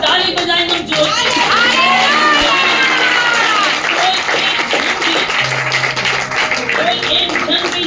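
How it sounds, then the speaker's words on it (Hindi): A church congregation claps loudly together during a sermon, a dense wash of applause with cheering and scattered shouts, plus a few low tonal notes underneath. "ताली बजाएं हम जोर से।"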